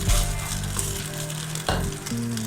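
Cooked rice is stirred in a pan with ghee and a cumin tempering, giving a continuous loud sizzle broken by scraping and clattering stirring strokes, close up with no talk.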